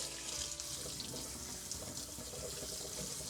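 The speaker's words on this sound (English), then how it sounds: "and then run cold water to rinse them thoroughly." Steady running cold tap water splashing continuously into a sink while rinsing blackberries, a close, even rush with no pauses.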